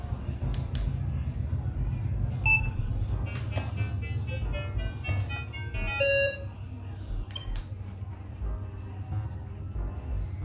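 A Minelab Vanquish 540 metal detector gives electronic target tones over gold, short beeps of differing pitch heard among handling noise and a steady background hum.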